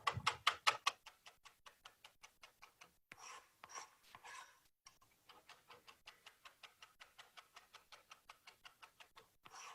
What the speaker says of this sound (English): I do want to chop this down just a touch bit finer